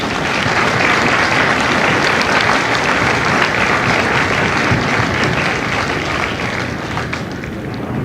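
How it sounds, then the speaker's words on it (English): Loud, continuous audience applause at a Marine Corps recruit graduation ceremony in San Diego, honoring drill instructors and families of Delta Company; a thick roar of many clapping hands, fading slightly near the end. "please join me in a round of applause for the drill instructors and families of Delta Company"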